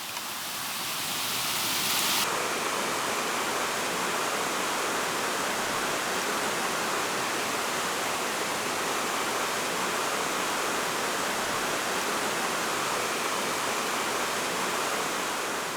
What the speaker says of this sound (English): Nice brook trout. Even nicer waterfall.